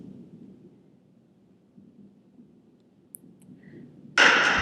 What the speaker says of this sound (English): The thunder gets louder and louder.